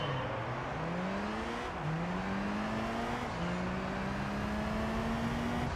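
A heavily tuned race car engine in Gran Turismo 3, with a Group C racer character, drones steadily and loud, its pitch climbing through the gears with two distinct shift drops along the way.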